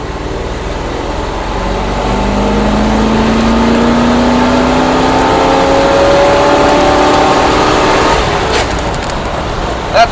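A 1964 Ford F100 pickup with a 302 small-block V8 and a Pertronix cast distributor makes a rolling second-gear pull. The loud engine note climbs steadily in pitch for about eight seconds, then drops off as the throttle eases.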